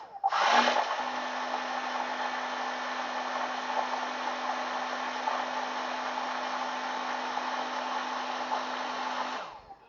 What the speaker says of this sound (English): Take the hairdryer.